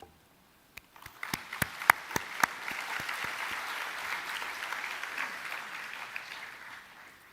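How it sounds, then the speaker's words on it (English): A crowd at a university graduation ceremony bursts into applause, starting with a few sharp claps and swelling into steady, sustained clapping that continues for several seconds. "give them a round of applause to show our appreciation"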